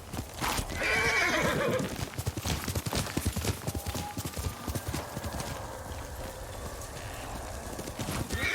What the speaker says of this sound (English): Faster, Yuriko's horse